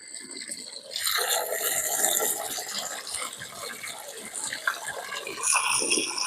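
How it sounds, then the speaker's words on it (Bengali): Water poured from a container onto a lotus planting pot, a steady close splashing stream that starts after a brief pause and runs on with slight surges. "আমি এরম করে জল দেবো এরম করে জল দিলাম"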